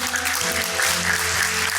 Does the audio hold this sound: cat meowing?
no